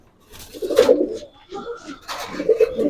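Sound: high flyer pigeons cooing at a pigeon farm

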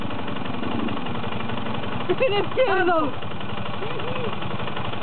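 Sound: WSK motorcycle engine running with throttle

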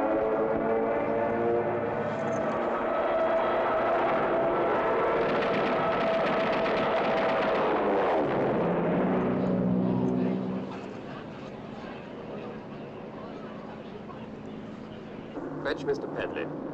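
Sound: aircraft descending to land

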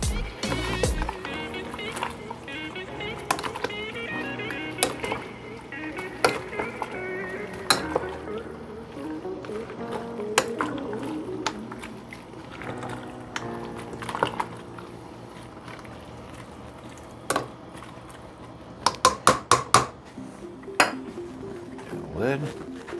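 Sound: stirring and folding Russian shchi cabbage soup in pot

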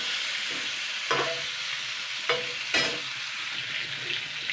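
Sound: katla fish pieces frying in a pan

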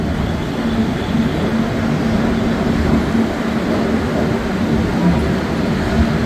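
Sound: Kanchankanya Express train arriving at Sealdah platform 11

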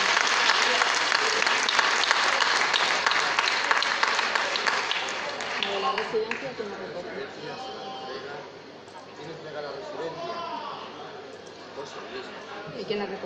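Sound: audience applause

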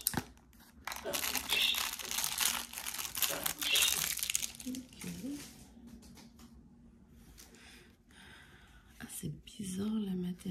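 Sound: opening a bandage-like package, crinkling wrapper

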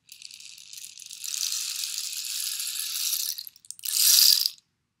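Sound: small rain stick turned over, pebbles falling inside

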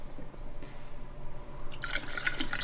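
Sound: water poured into a hookah

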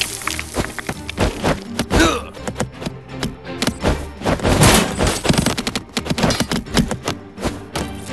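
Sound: Archidon archers firing in video game Stick War Legacy

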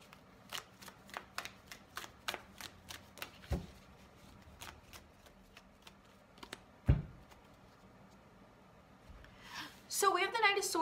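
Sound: tarot cards being shuffled and drawn

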